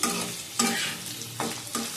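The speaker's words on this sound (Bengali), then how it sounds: "কাঁচা লঙ্কা ভেজে দেখাচ্ছি।" Green chillies frying in a pan: bright, hissing sizzle with sharp bursts as they are stirred, three or four distinct surges over a steady crackle, close and fairly loud, no voices.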